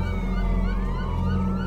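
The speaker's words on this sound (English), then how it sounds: "The sirens are coming up the road, louder and louder" Emergency vehicle sirens wail in overlapping, rising and falling tones over a low rumble of engine and road noise, loud and steady as they draw near.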